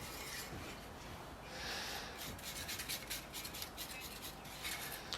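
Natural black ochre earth pigment being mixed by hand while repairing vulcanized cellulose fibre corner pieces, giving faint, continuous gritty scraping and rubbing strokes close by, without any voices.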